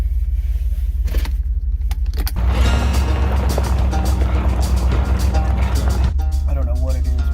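The engine of a 2002 Dodge Dakota 4x4 with a broken CV axle idles, then swells into a steady, loud, low rumble as the truck pulls away, heard from inside the cab.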